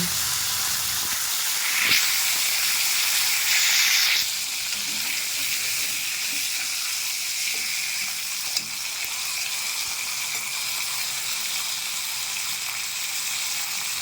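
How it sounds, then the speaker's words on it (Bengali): A hilsa fish head fries in hot mustard oil in a wok, giving a steady, loud, continuous sizzle and hiss with a stronger bubbling burst early on, no voices over it. "তেল গরম হয়ে গেছে, এবার মাথাটা দিয়ে দেব।"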